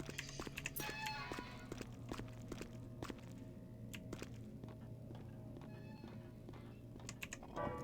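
Computer keyboard keys clack while a PC game, Vampire: The Masquerade - Bloodlines, is being recorded. Irregular sharp clicks are picked up by the microphone over steady game music and ambience.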